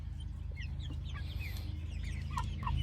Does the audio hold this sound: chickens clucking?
yes